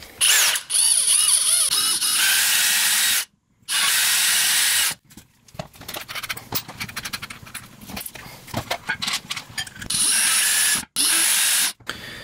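A DeWALT DCD701 12V brushless cordless drill whirs in several loud bursts, with short pauses and a stretch of quieter clicking and ratcheting handling noise between them. Nobody speaks.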